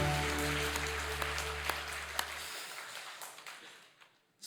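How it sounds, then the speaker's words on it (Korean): Congregational applause in a Korean Sunday church worship service, steady moderate clapping at first under a fading sustained organ or keyboard chord, then thinning toward the end. "박수로 영광 돌리겠습니다."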